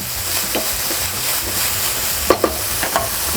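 Onions sizzling and frying in a hot pan in a steady, close hiss, with a few sharp clinks of stirring near the end.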